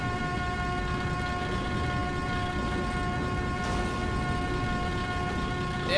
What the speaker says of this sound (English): Press the X button to honk the horn.